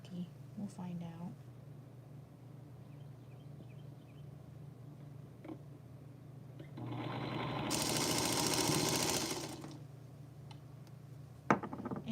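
A sewing machine stitching quilt fabric runs in a steady buzzing burst of about three seconds, close and fairly loud, between quieter handling clicks and low room hum.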